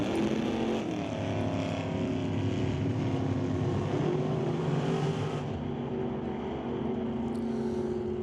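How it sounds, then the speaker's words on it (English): Two Super Street drag cars at an NHRA Northwest National Open Series event launch off the line and run the quarter mile, a loud, sustained engine roar that holds steady and then fades slightly near the end. "They both get off the starting line green, dashing down to the quarter-mile stripe."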